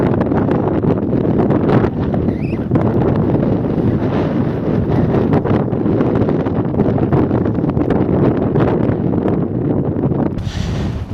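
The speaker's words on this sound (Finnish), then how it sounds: "Tää viima on aika kova." Strong, cold wind in Lapland fell country roars and buffets the microphone continuously, a dense rushing noise that never lets up.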